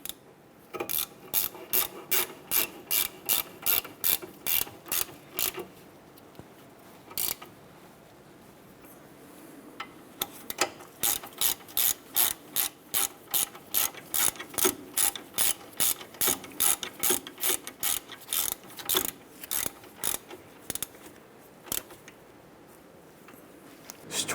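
A ratchet snugs down the caliper bracket bolts on a 2008-2012 Honda Accord during a driver-side front hub job. Quick runs of sharp, close clicks repeat in bursts separated by short pauses, with no talking.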